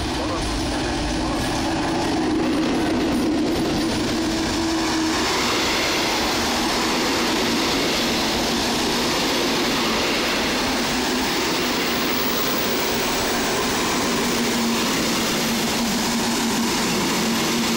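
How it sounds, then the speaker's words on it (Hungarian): Agram international express train hauled by a V43 431 147 electric locomotive arriving at Balatonföldvár station, a loud, steady rumble and rolling roar with a sustained hum running throughout. "Agram nemzetközi gyorsvonat érkezik Budapest déli pályaudvar felől, és indul tovább Zágrába"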